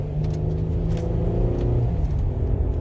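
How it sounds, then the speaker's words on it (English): Mercedes-Benz GLE SUV with replaced tires, brakes and sway bar links driving through urban traffic, a steady loud engine and road rumble with slight rises in revs, close and continuous with no talk. "This is a bit of urban driving."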